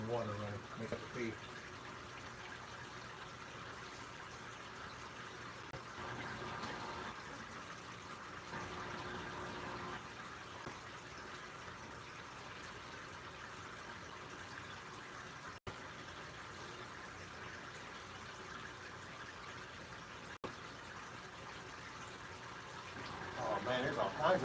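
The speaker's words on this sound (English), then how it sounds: "I get tired of hearing water running" Steady water running and gushing throughout an aquarium water change, a continuous broadband rush at moderate level with a person talking over it intermittently.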